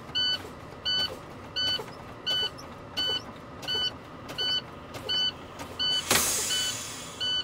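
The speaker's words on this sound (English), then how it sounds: "Both my truck and trailer knob have popped out" Air brake knobs on a truck and trailer pop out during an emergency brake test in a CDL pre-trip inspection, preceded by a steady series of about nine evenly spaced electronic beeps, then a sharp burst of hissing air near the end.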